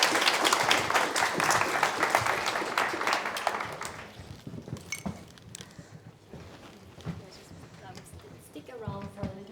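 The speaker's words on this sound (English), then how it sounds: "Round of applause" An audience applauds after a charity service-design talk, clapping loudly at first and then thinning to scattered claps beneath a speaker's talk.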